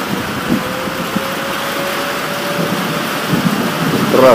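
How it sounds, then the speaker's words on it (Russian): Storm rain falling steadily in a loud continuous wash, with a low thunder rumble building toward the end and a faint tonal hum running through part of it. "Страшные разряды."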